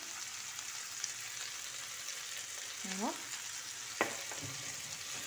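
Onion and chicken fry in a pan, with a continuous moderate sizzle and a couple of brief stirring scrapes and clinks, no talking.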